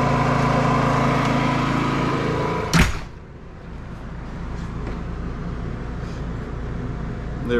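A Predator 5000 generator runs steadily under an electrical load test near 4,600 watts, a loud continuous engine drone that dips briefly with a sharp clunk before settling into a slightly quieter steady hum.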